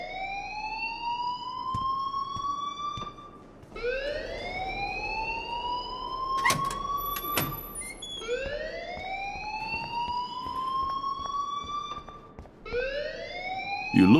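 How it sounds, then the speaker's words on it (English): An alarm rings in the video game Life Is Strange: a loud, repeating rising electronic wail that sweeps upward about every three and a half seconds, four cycles in a row, with no voices over it. "please turn off that alarm since that's your job."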